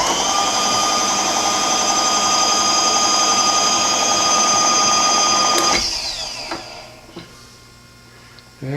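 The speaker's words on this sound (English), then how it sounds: "our guided tap driver, to start the 1/2 inch threads, again using a plug tap" A guided tap driver and plug tap start 1/2 inch threads dry in a Bendix master cylinder bore, heard as a loud, steady whirring machine tone that stops abruptly, followed by a few faint clicks and taps.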